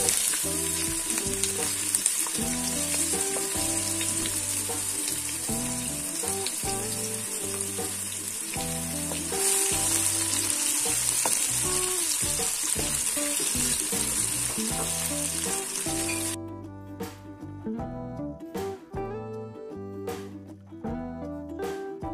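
Onions sizzle and fry steadily in hot oil in a kazan, a dense, continuous crackle that carries on throughout. Music plays over it and stops toward the end.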